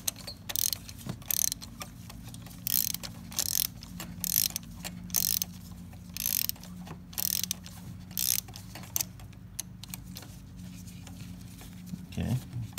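Ratchet wrench loosening a spark plug on a Honda CR-V, repeated bursts of rapid clicking in an irregular rhythm, close and fairly quiet, with a brief thump near the end.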